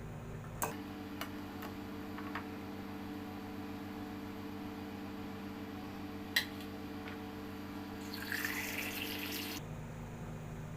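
Water poured into a small rice cooker, a short splashing burst near the end over a steady low electrical hum, with a few faint ticks before it.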